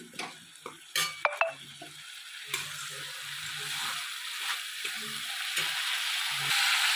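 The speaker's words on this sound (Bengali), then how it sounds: "এই দেখুন মশলাটা আমার কষা হয়ে এসেছে" Spice masala sizzles and fries in a pan while being stirred, with a spatula scraping and clinking against the metal in irregular strokes over a steady hiss that grows slightly louder toward the end.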